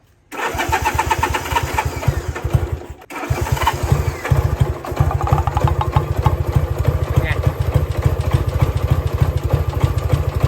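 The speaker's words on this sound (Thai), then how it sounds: "เสียงแบบเสียงเครื่องยนต์มันทำงานได้แบบว่า ได้อารมณ์ทุกคน" An old motorcycle engine catches after a brief crank, stumbles once, then settles into a loud, steady, thumping idle that runs on without a break.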